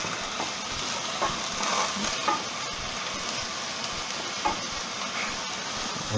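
Sausages frying in a pan for a sausage-and-mash dinner, a steady loud sizzle and crackle with occasional stirring clatter, continuous throughout with no talking.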